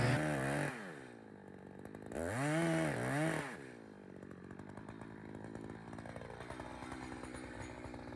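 A chainsaw cuts through the middle of the hinge while a tree is felled, with two loud rising revving bursts followed by a steadier, lower cutting drone that runs on to the end.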